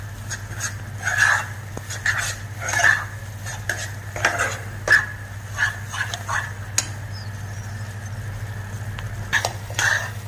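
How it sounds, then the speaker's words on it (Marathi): A spoon sautés prasad sheera in ghee in a kadhai over a low flame, making repeated scraping and clinking strokes against the metal over a gentle sizzle and a low steady hum. "छान मस्त मंद आचेवर परतून घ्यायचा"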